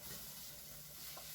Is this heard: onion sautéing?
yes